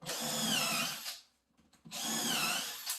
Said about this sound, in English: I'm going to drill all the holes just for the sake of this demo.